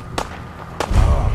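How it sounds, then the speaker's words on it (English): Two sharp, loud gunshots ring out in the Fallout 4 video game about half a second apart, then a low rumbling boom follows. "And gunshots."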